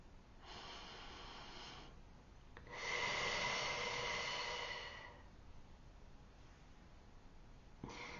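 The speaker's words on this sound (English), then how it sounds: "take a deep breath with me" A slow, deep inhale followed by a longer, louder exhale, close and breathy with no talking, then a brief soft breath sound at the end.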